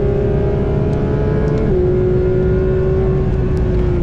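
A Porsche GT3 RS races around the Nürburgring, its flat-six engine a loud, sustained high-revving whine heard from inside, the pitch holding steady and dropping slightly as the revs ease.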